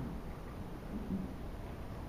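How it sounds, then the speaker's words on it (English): Rain falls steadily outdoors, a soft continuous hiss with a faint low rumble beneath, quiet and even throughout with no voices. "and it's raining outside."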